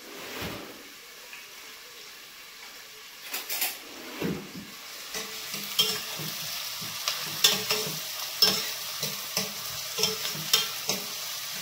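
Onions softening in a pan for a bitter gourd fry, a quiet sizzle under a series of spatula stirs and scrapes that grow more frequent and louder toward the end.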